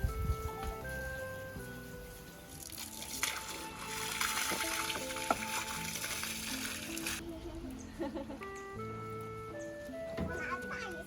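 A sudden heavy rainstorm with strong wind sends a dense, steady hiss of rain onto surfaces that swells louder midway through, while children and adults talk over it.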